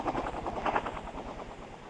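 Helicopter in the video game World of Bugs, a steady loud rotor chop with pulsing thuds running throughout, close and continuous.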